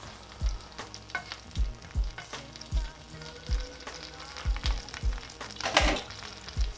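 Chicken birria taco sizzling and frying in a pan as it is flipped, with steady crackle and repeated low thumps and scraping of the spatula, close and fairly loud.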